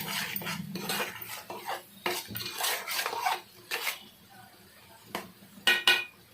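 A metal spoon stirs fish curry masala with chilli powder and salt in a pot. It gives close, uneven clanks and scrapes against the pot's sides in short bursts, with no talk.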